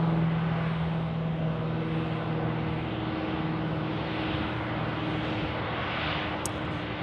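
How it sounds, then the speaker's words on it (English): An Airbus A319 airliner taxis toward a gate at Tucson International Airport, its engines giving a steady, loud jet roar with a low hum throughout, heard from nearby with no talk. "the A319 says hello. Taxiing into, I believe, gate Alpha 9."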